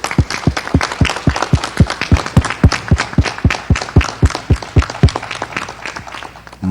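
An audience gives a round of applause, heard as a steady train of sharp, distinct claps at an even rhythm, fairly close and loud, gradually thinning toward the end.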